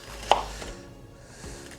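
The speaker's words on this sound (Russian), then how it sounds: "Из овощей у меня здесь две маленькие луковицы. Так, по-крупному порежем" Small onions being chopped coarsely with a knife on a board, one sharp close chop followed by a softer cut in a quiet room.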